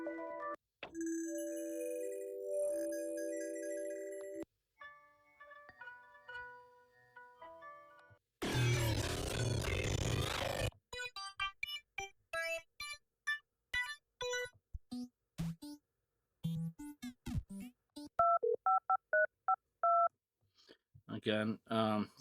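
Experimental presets on the Vital synth give a run of varied short electronic sounds: tonal blips, a burst of noisy texture, clicky stuttering pulses and beeping patterns, separated by brief gaps.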